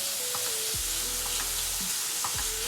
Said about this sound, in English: I have added the onions, peppers, and garlic, and I'm sauteing them